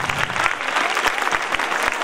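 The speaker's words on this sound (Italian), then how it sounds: "io farei un applauso al professor Calvoso, al professor De Cristoforo." Audience applause at an end-of-year school event in Viggianello, a dense steady wash of many hands clapping for two professors, continuous and fairly loud throughout, with faint voices mixed in.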